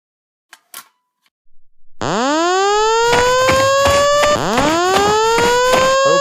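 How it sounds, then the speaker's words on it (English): A building fire alarm sounds after being pulled: a loud rising electronic siren sweeps up and holds, pulsing repeatedly close by, preceded by a few brief clicks. "I'm going to pull the fire alarm."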